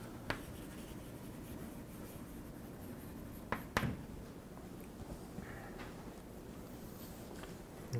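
Chalk or marker writing on a board during a mathematics lecture, faint scratching strokes with a few sharper taps against quiet room tone, no speech.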